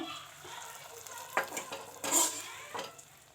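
Fried dry fruits are stirred into a pot of pasta payasa: a few quiet, close scrapes and clinks of a spoon against the vessel over soft wet mixing sounds.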